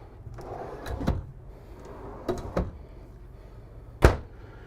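Drawers in a 2020 Newmar Superstar 4061 motorhome slide and bump shut a few times, quiet scrapes ending in soft knocks, with one firmer close at the end.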